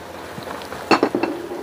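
Spices and sliced leeks being stir-fried in a pan with palm sugar and mushroom stock, a few quick clinks of a utensil against the pan near the end.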